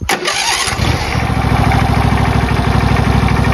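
John Deere LT166 lawn tractor engine, in need of repair, cranking and catching, then running at low throttle with a loud, close, steady rumble.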